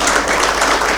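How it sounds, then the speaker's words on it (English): Applause and clapping from an audience at a professional winter school conference session in Victoria Falls, a steady dense patter of many hands filling the room, fairly loud and continuous throughout. "Let's give him a round of applause."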